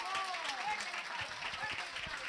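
An audience at the closing ceremony of a symposium applauds loudly and steadily, the dense clapping mixed with crowd voices and a few whistle-like cheers.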